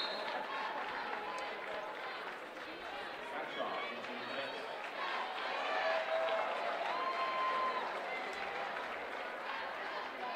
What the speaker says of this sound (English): And a nice round of applause for Barkley,